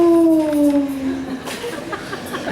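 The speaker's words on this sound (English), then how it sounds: "In the distance, you hear something howl." A long, wavering howl trails off in the distance, its tone sliding slowly downward before fading into faint background noise.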